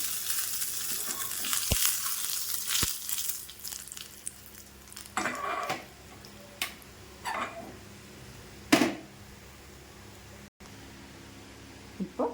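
Mustard seeds and curry leaves crackle and sizzle in hot oil while tempering a turkey berry chutney, a soft, steady hiss broken by scattered faint pops and a few louder spits, heard up close at low volume.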